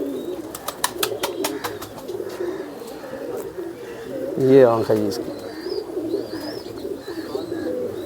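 Champion flying pigeons coo softly at a loft, with a louder burst of calls midway, while someone talks close by.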